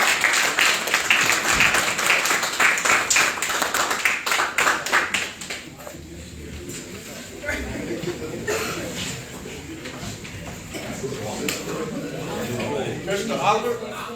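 At a city meeting, an audience claps for newly sworn-in firefighters in a burst of loud clapping that fades after about five seconds, followed by scattered claps, murmuring and talking from the room.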